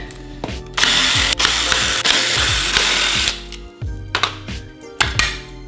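A ratchet driving out 8 mm bolts on the rear main seal of a Mazda 2.0 Duratec MZR engine, a loud sustained buzzing run followed by short clicking ratchet strokes, close up with no talk.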